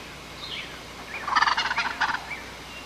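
A wild turkey gobbles once in a rapid, rattling burst, moderately close and clear against a quiet outdoor background, preceded and followed by a few softer calls.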